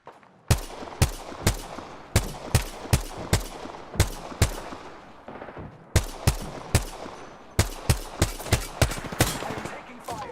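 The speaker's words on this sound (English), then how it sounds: "Listen up, I'm getting shot at." Gunfire in the battle royale shooter Apex Legends rings out as loud, sharp single shots at a steady rhythm. About seventeen close cracks come in two volleys, split by a short pause near the middle.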